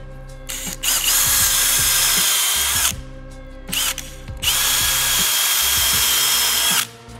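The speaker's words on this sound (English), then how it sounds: "Pre-drill." A corded power drill pre-drills holes in a garage during hose reel installation, whirring loudly in two long bursts with brief pauses and pitch changes as the trigger is squeezed and released.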